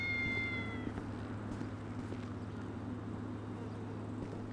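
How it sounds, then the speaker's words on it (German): In the video game GTA 5, a cat gives one clear meow near the start, over a low, steady droning background hum. "Da geht sie, die Katze."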